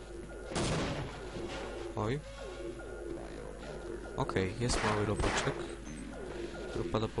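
Bursts of gunfire in Half-Life, several sharp shots in quick succession with a person talking over them and other game effects in between.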